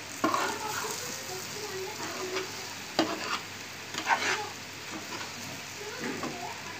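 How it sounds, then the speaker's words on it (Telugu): A spoon stirs coconut powder into a gram flour mixture in a hot pan, with soft scraping strokes and a few louder clinks over a faint background sizzle. "అదంతా అందులో వేసేసి బాగా కలుపుకోవాలి"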